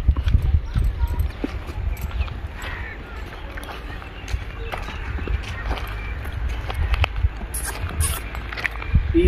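A ridden horse's hooves clip-clop steadily on the ground over a continuous low rumble, while someone talks throughout.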